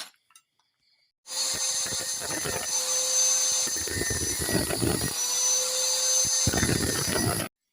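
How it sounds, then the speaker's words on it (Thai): An angle grinder cuts off a part during a home repair of a sticking Fino throttle cable: a loud, close, steady high-pitched whine that starts abruptly after a second of quiet and runs continuously to the end. "เจียตัดตัวนี้ออก"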